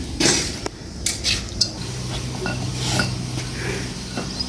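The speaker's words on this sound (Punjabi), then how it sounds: "ਆਲੂ ਚੀਰ ਰਹੀ ਆ ਮੈਂ" A knife works through potatoes in a metal pot, giving sharp clinks and scrapes of blade against metal, loud and close, in an irregular rhythm over a low background hum.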